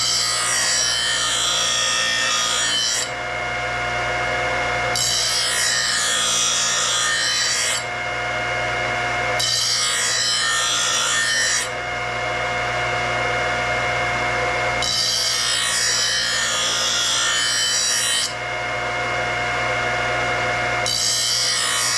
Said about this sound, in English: Much better job at deburring this.